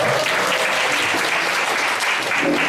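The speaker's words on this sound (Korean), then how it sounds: "멋진 공연을 해주신 찬양팀에게 하늘께 박수를 올려드리도록 하겠습니다." Church congregation applauding the worship team after their performance at a Sunday service, a dense, steady wash of many hands clapping at full strength from start to finish with no talk over it.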